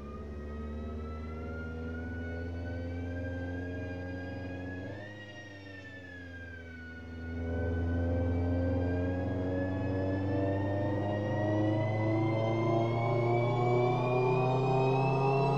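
In a video game, a car engine revs steadily on a dynamometer, a high harmonic whine that dips briefly mid-way and then climbs again to a sustained, rising pitch, with no talk.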